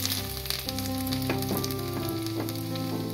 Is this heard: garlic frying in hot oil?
yes